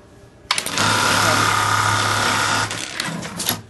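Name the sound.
AMS210 emblem sewing machine stitching an emblem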